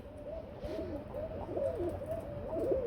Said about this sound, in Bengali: শর্ট পেস কবুতর কি পরিমাণ ডাকে দেখতে পাচ্ছেন